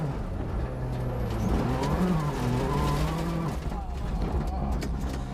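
Ken Block's rally car slides on a muddy corner of a New Zealand gravel stage, its engine revving and wavering over tyre scrabble at a moderate distance, with a commentator talking over it.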